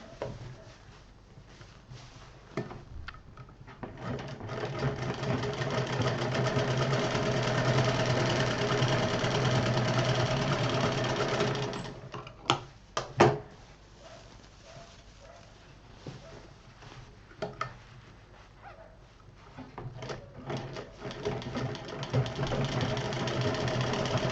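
Sewing machine running steadily while stitching the panels of a homemade children's wardrobe, a continuous motor hum close by with a brief stop partway through before the stitching resumes.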